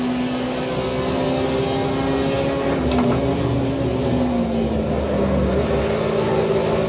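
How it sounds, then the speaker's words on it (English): A race car engine in the Assetto Corsa EVO driving game drones steadily at high revs, its pitch wavering and sliding down and back up while it runs on without a break. "think actually the sound of the car is pretty connected to what the car is actually doing"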